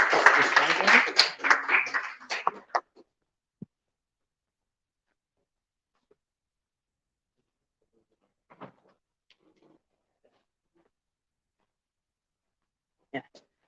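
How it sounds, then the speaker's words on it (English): Audience clapping for a student talk on AI, a brief dense burst that fades out within about three seconds, followed by near silence with a few faint knocks. "So, round of applause for Sajjad"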